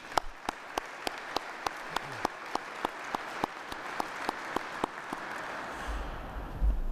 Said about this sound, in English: please join me in a round of applause for these great soldiers